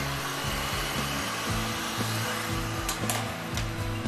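A heat gun blows a steady, close, whooshing stream of hot air as light heat is applied to vinyl wrap film, with faint rhythmic thumps beneath the airflow.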